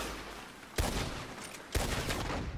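Two loud bursts of rapid gunfire from the video game Red Dead Online, each a dense crackling volley lasting about a second, with no talk.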